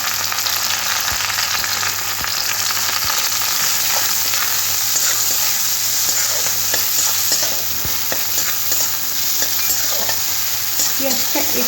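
Two medium chopped onions sizzle and fry in a pan for dal fry, stirred repeatedly with scraping clicks over a steady hiss, close and loud with no talk.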